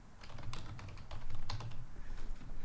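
Continuous rapid typing on a computer keyboard, with a dense stream of close clicking keystrokes over a low background hum, steady throughout without pauses.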